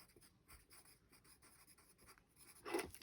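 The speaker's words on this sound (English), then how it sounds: "on your scrap piece of paper, you can make little ticks so that you know how many rows" A pencil scratches quick little tally marks on scrap paper: a run of faint, short, dry strokes close by in a quiet room, ending in a slightly louder scrape.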